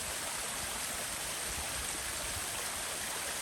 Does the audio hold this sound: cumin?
no